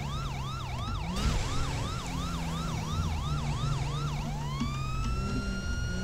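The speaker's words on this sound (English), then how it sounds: "Looks like ambulances are just now responding as well." Ambulance sirens wail in the LSPD First Response police game, a loud rising-falling cycle that repeats steadily before switching to a longer upward sweep, with engine rumble beneath.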